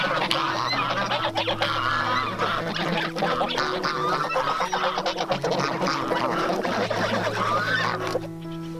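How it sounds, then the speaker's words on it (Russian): A flock of geese honks loudly and continuously, overlapping calls close by, with roosters crowing mixed in and no talking. "Я только начал идти, гуси на меня услышали, начали орать, петухи их поддерживают."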